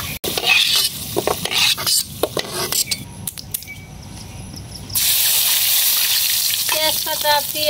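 Potatoes fry in oil in a pan on a stove, with sizzling, scraping stirs and metal utensil clinks throughout, followed by a louder, steady sizzle in the final seconds.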